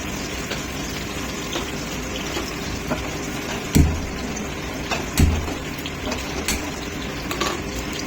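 Panch phoron and radhuni spices fry in a little oil with a steady, close sizzle, broken by a couple of dull knocks from a utensil against the pan.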